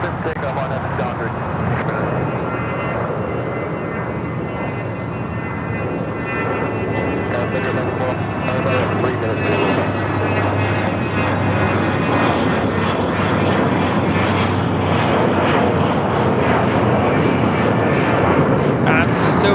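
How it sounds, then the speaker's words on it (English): A Dassault Falcon 50 business jet roars steadily at an airport runway during takeoff, a loud broad engine rush sustained throughout with a rising whine, while people talk nearby. "That's Dassault Falcon 50."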